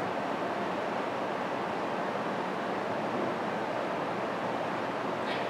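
Ocean waves crash over rocks in a steady, loud roar of surf and spray with wind noise, continuous throughout and no voices.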